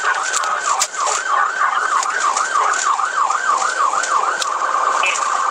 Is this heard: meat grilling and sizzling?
no